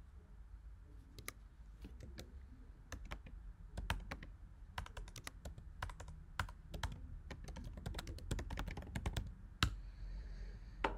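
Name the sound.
typing on computer keyboard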